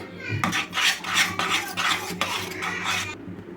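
A spoon stirs ghee into a thick sweet mixture in a pan, scraping and rubbing in a run of rhythmic strokes about every half second, close and fairly loud, with no talk.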